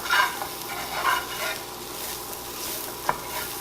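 Roasted garlic beans are stirred in a pan with salt and pepper: a few soft scraping strokes over a faint, steady sizzle, with one sharp tap near the end.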